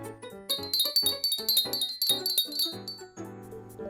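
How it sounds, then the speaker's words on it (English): Small decorative trinket bells jingle in a bright, tinkling burst of overlapping metallic rings that rise and fall for several seconds, close and clear with no voices. "Yep, they're bells."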